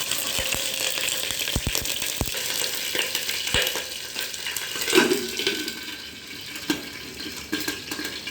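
Sliced onions sizzle and crackle in hot oil in a pan for a tomato and corn dish, a steady close frying hiss with occasional stirring clinks.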